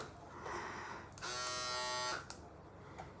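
A GERTZY electric men's trimmer switches on and runs with a steady, close buzzing whine for about a second, then stops, with quiet room noise before and after.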